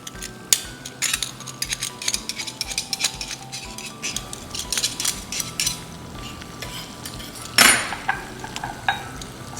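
Pressed garlic sizzling in a pan under steady frying crackle, with a spoon stirring and clinking against the metal throughout and a louder scrape and splash near the end.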